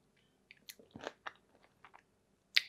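A slice of cucumber dipped in keto cannoli dip is bitten and chewed close up, a faint crisp crunch followed by soft wet chewing clicks and one sharper snap near the end, with no talk.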